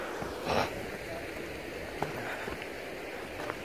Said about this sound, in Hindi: जैसे आप देख सकते हैं पानी की कितनी खूबसूरत आवाज़ है।